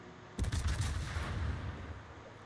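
A cruiser's main guns fire shells in the naval combat game World of Warships: a sudden loud, booming salvo with dense rumbling low end that holds and slowly tails off, heard alone without voices.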